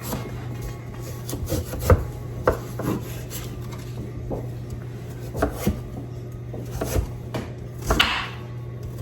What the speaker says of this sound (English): I'm putting a little effort into cutting it. It is a very firm squash.